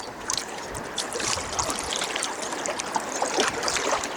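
River water flowing over shallow bedrock, a continuous rushing and gurgling wash with bright splashy texture, steady and moderately loud throughout, with no voices.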